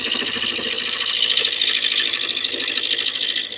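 A Craftex 12 by 18 inch midi lathe runs steadily up close, a continuous whirring mechanical drone with a fine rapid texture and no pauses.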